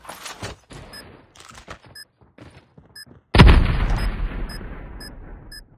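In Call of Duty Mobile, scattered quiet gunshots give way to a single loud, close grenade blast with a long rumbling decay that fades out, and nobody speaks.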